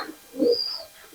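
A Pakistani pigeon gives a single soft, low coo, close and quiet, with a faint higher chirp-like tone above it and otherwise calm surroundings.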